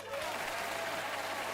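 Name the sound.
TV studio audience applause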